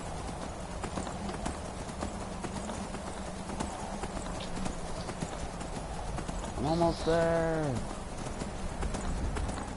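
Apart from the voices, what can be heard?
horse hooves clip-clopping in Skyrim video game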